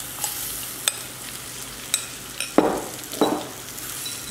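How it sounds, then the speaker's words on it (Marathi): Marinated ivy gourd pieces sauté in oil with browned garlic, producing a close crackling sizzle with spoon taps and two louder scraping, tossing strokes near the end. "आणि छान आता परतून घेऊ। पहिला तेलातच परतवायची।"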